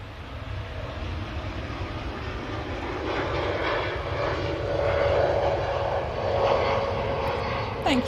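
An airliner departs on a flight to Melbourne, its jet engines a steady far-off roar that swells and grows louder partway through. A voice talks over it at times.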